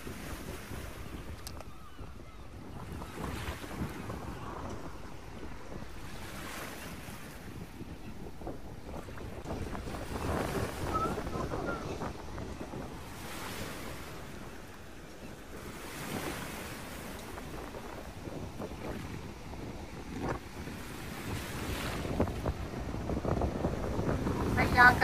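Sea waves washing onto a clean, sandy beach at Kund Malir on the Balochistan coast, a steady rolling surf with periodic swells and wind buffeting the microphone throughout.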